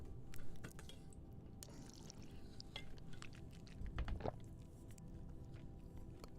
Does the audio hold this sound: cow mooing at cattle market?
no